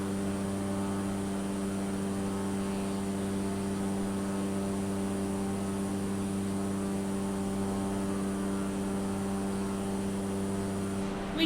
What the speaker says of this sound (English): Where you going, plane?